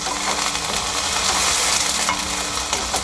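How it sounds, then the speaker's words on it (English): Food, with carrots in it, fries in an oiled wok while being stirred, a steady loud sizzle carrying faint scraping and clinking of the utensil, nobody speaking. "We're gonna go ahead and stir it just for a little bit."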